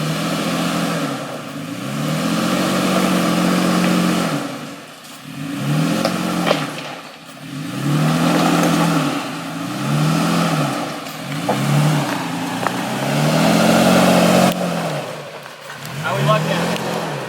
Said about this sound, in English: We got some big rocks you're about to go over.